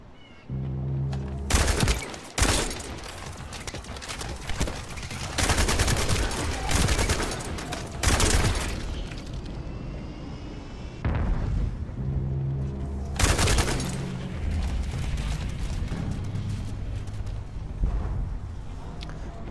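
Rapid gunfire in the shooter game The First Descendant: loud, dense volleys of shots and booming blasts in several long bursts, with short lulls between them and a steady low rumble underneath.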